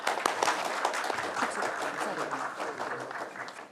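An audience at a Korean forum on revising the National Public Servants Act claps to welcome an arriving committee chairman: thick, sustained indoor applause from a roomful of people, loud at first and easing slightly toward the end.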